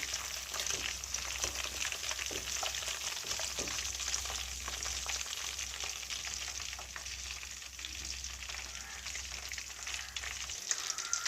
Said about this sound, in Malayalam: ബാക്കി നമുക്ക് ഇതുപോലെ ഒന്ന് ഫ്രൈ ചെയ്തെടുക്കാം